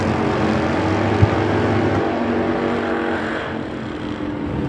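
A 2018 Harley Davidson drag-racing motorcycle pulls a wheelie down the strip at a Mancup World Finals event, its engine a loud steady roar, with a brief sharp crack near the start.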